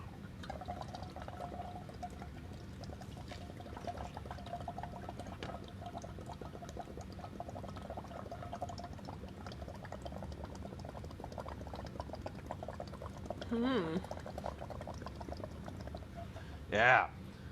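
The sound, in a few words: blowing carbon dioxide into bay water with indicator solution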